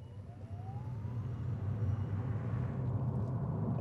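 A 2024 Fiat 500e electric car launches hard from a standstill, a steady low rumble of tyres and road swelling slightly as it accelerates, with a faint rising electric whine and no voices.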